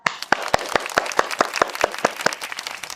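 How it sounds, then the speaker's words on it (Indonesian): A small crowd claps after a children's drama performance at an Islamic New Year celebration, sharp individual hand claps in a fairly regular rhythm layered over a thinner patter of scattered applause. "Kita beri tepuk tangan yang meriah."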